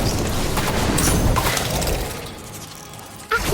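Incendio fire spell from Harry Potter: Magic Awakened, a dense crackling, whooshing burst of magical effects filling the first two seconds, then tailing off with a short sharp hit near the end.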